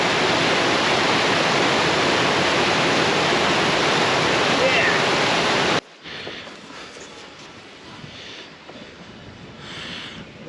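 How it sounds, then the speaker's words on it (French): A powerful waterfall pours at high flow in the woods, a loud, dense roar that cuts off abruptly partway through to a much quieter, softer ambience. "Le bruit que ça fait, puis le débit d'eau qu'il y a, c'est vraiment hallucinant."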